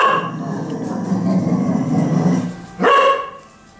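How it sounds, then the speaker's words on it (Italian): A dog, agitated by passing ambulances, lets out a sustained howling bark at close range, rising then trailing off, followed by a sharper bark near the end, with a faint voice beneath. "c'è il mio cane che sente le autoambulanze e si innervosisce"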